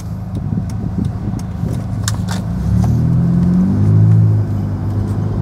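Automatic 2010 Honda Jazz GE-8 RS on a test drive, its engine revved from a low idle hum to a smooth, rising rumble that holds and then eases back. The exhaust is fairly quiet, and a few light clicks sound near the start.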